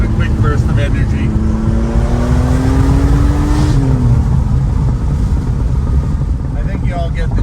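A 1991 Porsche 964 C2 Turbo drives along a farm road, its engine droning steadily in fifth gear and then rising in pitch through a quick burst of acceleration before easing off, with heavy road and wind rumble throughout.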